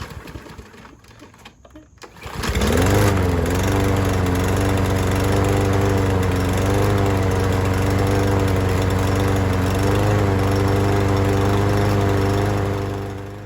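A Troy-Bilt TB110 push lawn mower with a new, apparently defective carburetor starts after faint handling noise and runs steadily and loudly up close, its small engine droning with a slightly wavering pitch, then fades a little at the end.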